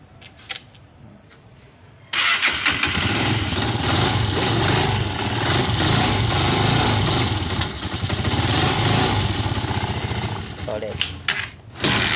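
Honda TMX Alpha motorcycle engine cranking and catching after a few clicks, then running loud and rough close by for several seconds before cutting off, with a voice audible around it.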